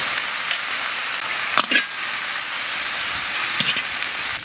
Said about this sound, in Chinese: 现在上锅炒一下，锅里不用倒油，牛肠子直接炒